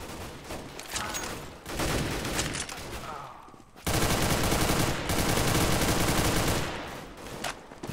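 Automatic rifle spray in Counter-Strike: Global Offensive, with long, loud bursts of rapid shots that continue almost unbroken, pausing briefly before another extended burst.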